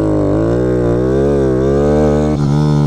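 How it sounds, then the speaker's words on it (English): Motorcycle engine held in a wheelie, a loud steady drone whose pitch wavers up and down as the rear brake is applied and released, with a brief dip near the end. "I don't know if you heard the pitch change in the bike, but you could hear me coming on and off the rear brake"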